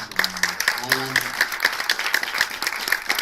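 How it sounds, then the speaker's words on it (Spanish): Applause from an audience, a quick patter of many hands clapping, with a voice speaking over it. "yo quiero que le demos un fuerte aplauso a Alan,"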